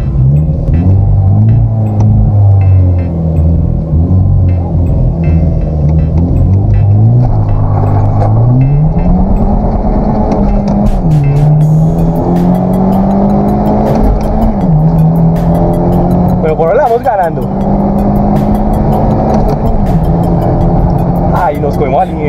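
Genesis Coupé 2.0T launching in a drag race, its engine droning loud and steady as the pitch climbs through the run with brief dips at the shifts, while a voice talks over it.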